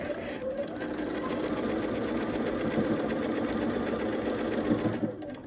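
A sewing machine runs steadily, stitching through thick quilt seams on a Ribbons and Stars quilt, a continuous whirring hum of close, even needle strokes with a voice talking over it.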